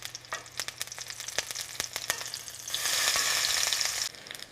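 Bacon strips frying in a cast iron skillet, started cold so the fat renders slowly: a steady crackling sizzle with scattered sharp pops, swelling into a denser, louder hiss midway before easing back.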